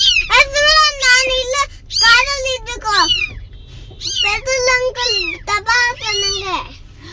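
A kitten meows repeatedly in a village home, giving a series of high, wavering cries in quick succession, loud and close, with brief pauses between calls and faint background noise.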